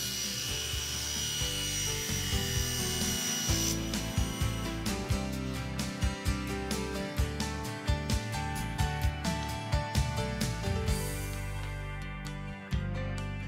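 A table saw cuts a small workpiece held down on a crosscut sled, a sustained whining blade tone with a rapid series of sharp ticking bites as the wood is fed through, loud and close, no speech.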